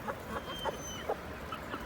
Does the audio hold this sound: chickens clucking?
yes